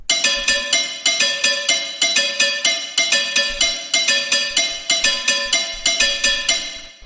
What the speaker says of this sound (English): The first sound here is what I called this lead percussion here